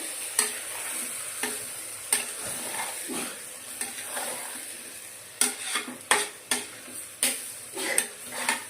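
A spoon stirs rice and ingredients for paneer biryani in a pot, with soft scraping and intermittent sharp clinks against the metal rim over a faint sizzle, no talk.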